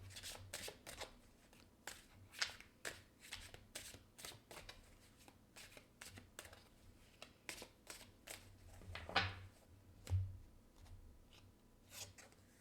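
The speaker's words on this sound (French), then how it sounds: "J'ai besoin de clarifier quelques cartes." Tarot cards shuffled by hand in a quiet room, a long run of quick papery riffles and soft flicks, close and fairly faint, with no one speaking.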